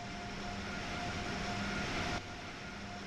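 An Amtrak Acela Express high-speed train with two 6,200 HP power cars, simulated in Train Sim World 3, runs with a steady loud mechanical rumble and hum, shifting slightly in tone near the end.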